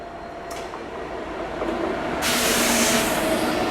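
A Howrah–SMT Bengaluru Duronto Express running at speed, heard as a steady rumbling roar with broadband hiss that swells louder partway through, no voices present.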